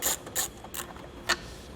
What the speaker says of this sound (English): we're going to just pull these bolts out just to make it easier for us